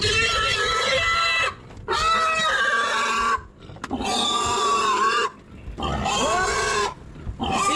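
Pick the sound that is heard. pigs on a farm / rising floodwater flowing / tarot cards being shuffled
pigs on a farm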